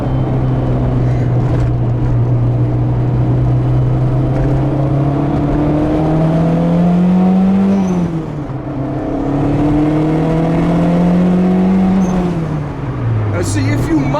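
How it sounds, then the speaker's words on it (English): Turbocharged B20b engine in a 1988 Honda CRX pulling loud and close, a strong rising engine drone climbing through gears with a whirring tone, dipping briefly between pulls before building again. "And that sound of that turbo."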